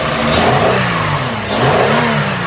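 A repaired car engine runs smoothly close by, revving up in two rising swells with a steady mid-pitched whir between them.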